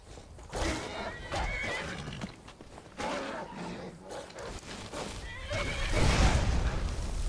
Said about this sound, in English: Leave my horse alone.